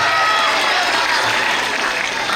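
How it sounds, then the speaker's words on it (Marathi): Loud, sustained applause from a hall full of students at a talent search exam event, dense clapping filling the whole moment without any voices over it. "तुम्ही सुद्धा स्वतःचं कौतुक मस्त जोरदार टाळ्या वाजून करायचं"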